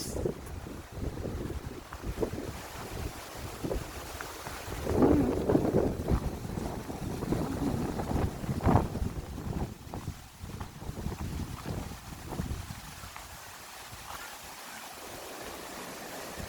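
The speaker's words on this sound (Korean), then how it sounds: "바람 소리 물 소리" Gusty wind buffets the microphone over a steady rush of flowing water from a small waterfall by a pond, fairly faint and continuous, with no voices.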